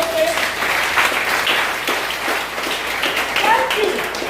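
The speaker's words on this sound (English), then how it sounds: "I want us to give a round of applause for Aiyepe." A symposium audience claps in a dense, sustained round of applause at a community drug-prevention event, with voices mixed in under the clapping.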